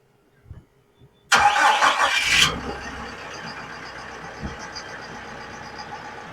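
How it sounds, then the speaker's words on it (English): A TYM T115 tractor started by push-button key fob: a brief whirring crank of about a second, then the engine catches and settles into a steady mid-pitched idle, close by, with no talking. "Right here's your button to start this tractor for your key fob."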